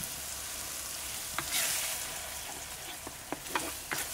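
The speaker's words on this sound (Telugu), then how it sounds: "వెంటనే టమాటా పేస్ట్ కూడా వేసుకుని పచ్చివాసన పోయే వరకు బాగా వేయించుకుందాం." Masala of turmeric and tomato paste frying in oil in a pan for a curry, a steady soft sizzle with a few light stirring clicks and scrapes toward the end, no voices.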